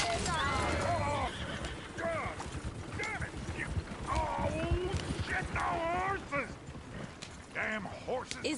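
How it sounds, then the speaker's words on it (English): Horses in Red Dead Redemption 2 whinny repeatedly while hooves clip-clop steadily, several close, shrill neighs over continuous hoofbeats, with voices talking throughout. "Damn horses!"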